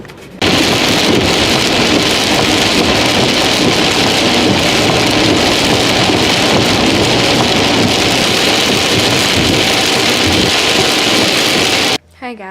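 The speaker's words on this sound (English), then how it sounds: "It's raining like crazy" Heavy rain pours down hard on a car during a drive, a loud and dense continuous roar that begins abruptly, holds steady for about eleven seconds and then cuts off just as suddenly.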